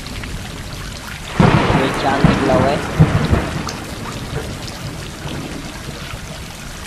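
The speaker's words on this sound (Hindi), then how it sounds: "बारिश बड़ी कड़ाके की हुई है" Heavy rain pours with a loud thunderclap and rolling rumble in the video game Stray, set in a dark city, as someone talks over the storm.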